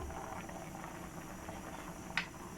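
Water bubbles at a steady, low rolling boil in a pot, faint and continuous, with a brief clink near the end.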